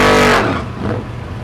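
Drag race cars launch hard at Thunder Valley in Noble, Oklahoma, a loud, roaring burst of engine noise that peaks at the start and then fades into a lower, rumbling drone within a second and a half.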